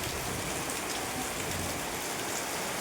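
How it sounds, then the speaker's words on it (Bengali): Heavy rain pours down steadily in a dense, unbroken hiss, loud and close, with no voices. "দেখো প্রচুর বৃষ্টি হচ্ছে"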